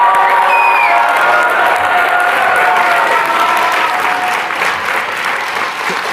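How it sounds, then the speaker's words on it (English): An audience at a Columbia University graduation ceremony claps loudly and steadily, a dense wash of applause with a few scattered cheers. "Let's applaud."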